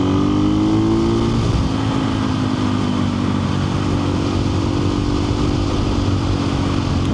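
A KTM 500 EXC-F dirt bike pulls hard through the gears on a country road, its loud engine drone rising steadily in pitch, heard up close from the rider's position over constant wind rush.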